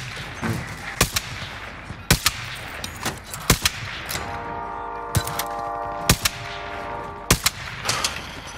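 Video game gunfire in a squad shooter, loud sharp shots recurring about once a second in short bursts, with a steady humming tone running under the later part and background game noise throughout.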